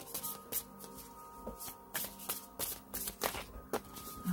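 Cards shuffled and drawn from a Whispers of Love oracle deck, a run of soft, quick papery riffles and slides with a few sharper flicks, close and fairly quiet.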